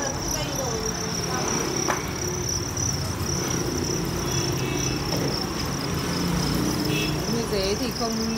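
Farmed crickets chirp in a continuous, dense, high-pitched drone that stays steady and fairly close, with faint background hum and no talking.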